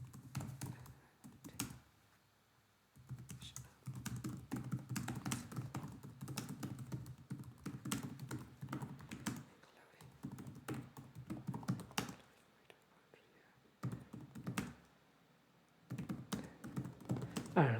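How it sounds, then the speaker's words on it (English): Computer keyboard typing in bursts of rapid clicky keystrokes, close and fairly quiet, broken by short pauses, with no talk over it. "I just typed something"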